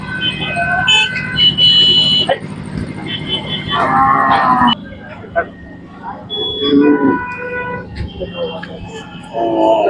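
Cattle, Khillar breed, moo loudly and repeatedly amid a busy outdoor crowd at Sangola market, Solapur, Maharashtra, with people talking nearby and general market bustle.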